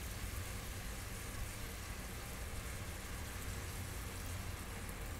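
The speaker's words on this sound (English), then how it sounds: "And let that sizzle a little." A splash of wine sizzles in a hot pan of shrimp for shrimp scampi, a soft, even hiss that holds steady throughout with no talking.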